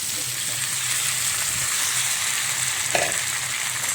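Tomatoes sautéing in a pan with a few chili flakes while potatoes cook, a loud, dense, steady sizzle like rain, with one faint utensil knock and no talk.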